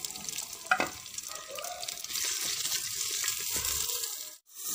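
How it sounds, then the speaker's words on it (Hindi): Onions sizzling in hot oil in a cooking pot (handi), a steady close frying hiss with a few clinks and stirring sounds, no talking. "इसके अंदर मैं ऑयल शामिल कर लेती हूँ और इसके साथ ही मैं जो है ये प्याज शामिल कर लूँगी"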